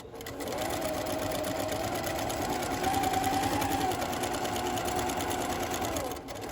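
A sewing machine runs continuously while stitching a pillowcase, a close, steady mechanical whir with a rapid needle rhythm that slows and stops near the end.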